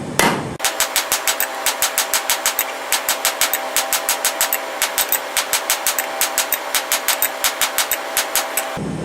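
A heated railroad spike is hammered out on an anvil to thin and draw it, with a steady rapid run of sharp metallic blows, close and loud, ringing continuously for several seconds.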